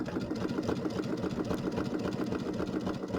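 Sewing machine running steadily through a zigzag stitch along quilt binding, a rapid even needle rhythm that holds continuous and close for the whole stretch, with no voices over it.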